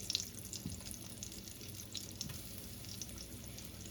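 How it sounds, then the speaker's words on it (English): Squash pieces sizzle in a hot frying pan, a quiet, steady crackling fry with small pops as pieces are laid in, and no talking. "it means our pan is ready to accept the squash. You hear it sizzle."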